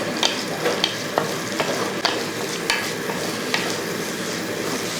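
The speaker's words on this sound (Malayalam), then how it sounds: "അപ്പോൾ ഉള്ളി ഇട്ടത് ഇതേപോലെ ഒന്ന് വഴറ്റിയെടുക്കുക" Crushed shallots and ginger sauté in a pan for a Kerala sardine curry, with a soft continuous sizzle broken by repeated sharp clicks of a spoon stirring and scraping, no voices.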